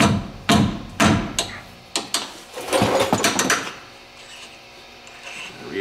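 Several sharp metallic strikes of a hammer loosening a ball joint part on a 2013 Dodge Ram 3500 ring out, spaced irregularly, followed by a quicker cluster of taps, then quieter background noise.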